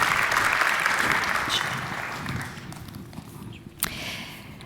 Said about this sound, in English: I think we can give her a warm round of applause